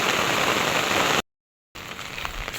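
Heavy rain roars as a loud, close hiss, cuts to total silence for about half a second, then returns slightly softer and patchier; no one speaks.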